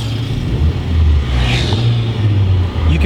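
A stock, unmodified car engine revs loud and close, its deep rumble rising and falling in a few surges over a continuous low drone.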